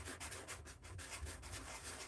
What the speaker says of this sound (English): Am I really sanding it?